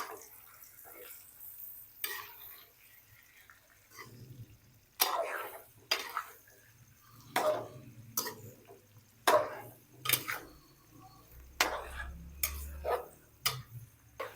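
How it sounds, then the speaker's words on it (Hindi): Whole spices such as green cardamom being stirred in a pot for chicken biryani: soft scrapes and light clinks of a spoon against the pot at a steady, irregular pace, quiet, with no talking. "अब इसको अच्छे तरीके से मिक्स करना है"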